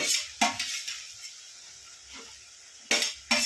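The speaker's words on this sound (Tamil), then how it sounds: "இப்போ நம்ம வெங்காயத்தை ஆட் பண்ணிக்கிறோங்க" Onions being added to brinjal mandi and stirred in a pan bring several sharp scrapes and clinks of a spoon against the pan, spaced irregularly over a soft background sizzle, with a pair of strokes near the end.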